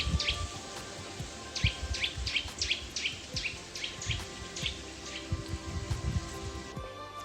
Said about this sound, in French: il y a un oiseau qui chante.